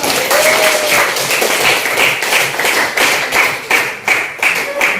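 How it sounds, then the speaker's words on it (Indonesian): A classroom of students claps together for a classmate's good answer, dense steady rapid applause lasting several seconds, close and loud. "Pintar sekali, tepuk tangan dulu."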